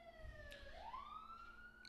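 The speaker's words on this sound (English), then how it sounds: "Ambulance. It's an ambulance." An ambulance siren sweeps past outside, its wailing tone gliding steadily upward and holding at moderate distance over a low background hum, with no talking.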